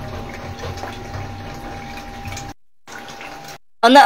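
Prime Water tap water running, a steady broadband gush of flow that cuts off for a moment, resumes briefly, then returns louder, with some background noise.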